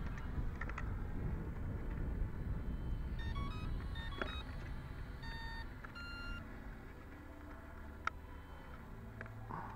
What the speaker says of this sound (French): On allume la télécommande.